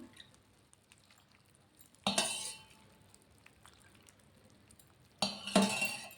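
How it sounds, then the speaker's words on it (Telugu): A spoon stirs curry with water in a cooking pot, giving two short, close bursts of scraping and clinking against the metal, separated by a few quiet seconds. "వాటర్ అంత తీసుకొని ఒక్కసారి కలిపేసుకుందాం"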